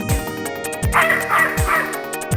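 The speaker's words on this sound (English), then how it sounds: "A dog?" A dog barks in the 1994 Sega CD video game Snatcher, a few sharp barks and yips spaced out over a busy musical background.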